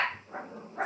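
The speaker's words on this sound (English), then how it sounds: "That would be my dog." A dog barks a few times at moderate distance, short separate woofs with quiet gaps between them, heard in a home kitchen where crêpes are being cooked.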